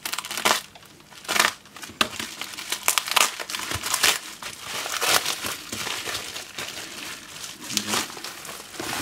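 Plastic packaging around a circuit board being cut and torn open, giving close, irregular crinkling and crunching bursts with sharp crackles throughout and no talk.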